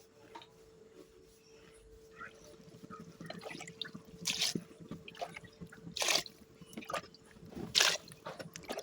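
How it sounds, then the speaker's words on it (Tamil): Water is poured into a cooking pot of sautéed mushrooms for mushroom biryani, a soft trickle building into several louder splashing gushes toward the end, close and fairly quiet, with faint kitchen background. "ஏழரை டம்ளர் தண்ணி விட்டுக்கிறேங்க."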